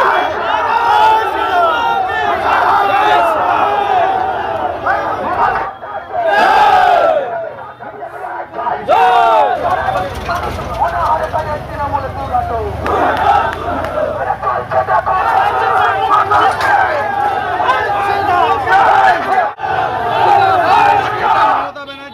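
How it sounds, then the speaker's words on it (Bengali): A large crowd of BJP workers shouts slogans and yells during a protest and scuffle with police at a BDO office, loud and continuous, with brief drops in the din. "বিডিও অফিসে বিজেপির বিক্ষোভ, পুলিশের সঙ্গে বিজেপি কর্মীদের ধস্তাধস্তি।"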